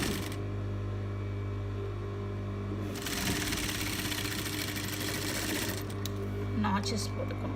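An electric sewing machine stitches the arm curve of an off-shoulder dress, a fast steady whirring burst in the middle, with quieter motor hum and handling noises before and after, close and moderately loud.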